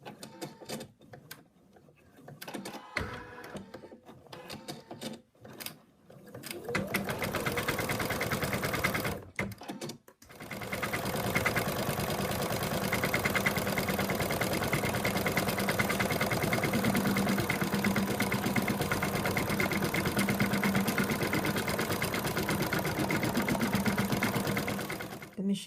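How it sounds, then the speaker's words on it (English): An embroidery machine stitching out the final color of a hooped design, with a continuous rapid mechanical whirring and clatter after some early handling and clicks, briefly pausing and then running on steadily. "hoop back in the machine, and it's going to stitch out the third and final color"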